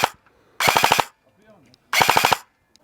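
Double Eagle M908A airsoft replica firing BBs in two short rapid bursts of about five loud, sharp shots each, close by, with quiet pauses between.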